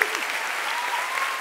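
A studio audience applauds the guests Bérangère Krief, Cyrus North, Suzane and Djilsi, a brief unbroken wash of clapping with no voices.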